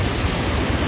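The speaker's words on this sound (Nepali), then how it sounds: "कत्रो बाढी आयो" Floodwater rushing through a village in Rasuwa, a loud, steady roar of broadband water noise that fills the short stretch without a break.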